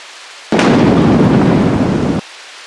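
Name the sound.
thunderstorm with thunder and rain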